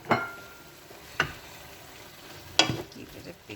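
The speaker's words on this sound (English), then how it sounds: "give it a big stir." Prawns and vegetables being stirred in a pan, heard as three distinct scraping strokes over a faint steady sizzle, with no talking.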